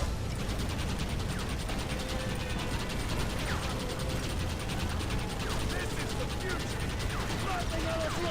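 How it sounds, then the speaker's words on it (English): Rapid, continuous mechanical gunfire from a Gatling gun in Red Dead Redemption rattles on without a break, a dense metallic whir and clatter filling the whole stretch at steady loudness. "I love the Gatling gun so much, man."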